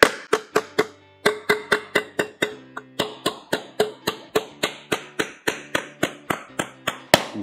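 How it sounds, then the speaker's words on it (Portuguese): A hammer stretches car body sheet metal while patching a Chevrolet Opala, a steady run of more than twenty sharp, ringing metallic blows close by, with only brief pauses. "você vem com o martelo, pessoal, e estica essa parte aqui, ó."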